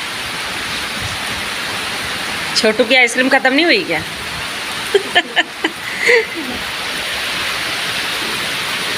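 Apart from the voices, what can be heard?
heavy rain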